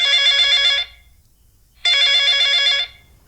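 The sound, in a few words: mobile phone ringing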